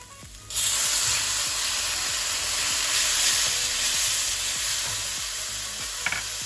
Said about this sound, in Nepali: प्याज पनि अब यतिको भुटिएपछि मैले यसमा टमाटर राख्दैछु।